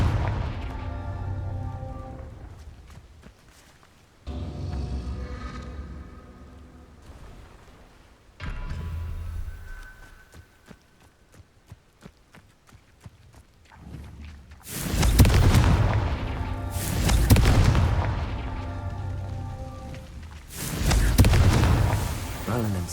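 Confringo fire spell explosions in the Hogwarts Legacy video game, several booming blasts in the later part following quieter in-game ambience and effects, loud and close, with a voice casting spells.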